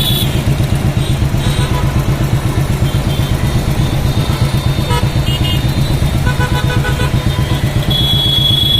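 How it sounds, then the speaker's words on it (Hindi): Congested traffic at the Bellary crossroads in Kurnool: a dense, continuous rumble of car and motorcycle engines with scattered horn toots, loud and close, steady throughout. "शहर करनूल के बल्लारी चौराहे पर ट्रैफिक जाम हो गई है।"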